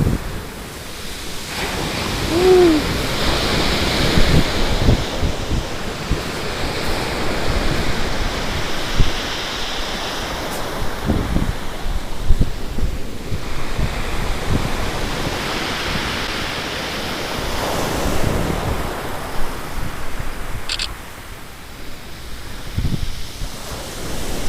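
Choppy sea waves surge and break in repeated washes of rushing surf, with wind buffeting the microphone, loud and close with no voices.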